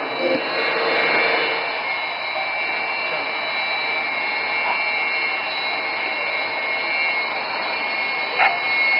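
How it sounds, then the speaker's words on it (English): Fighter jet engine at full power, a continuous loud roaring whine with a steady high tonal edge, sustained without break and heard from nearby. "the aircraft is now opening full power"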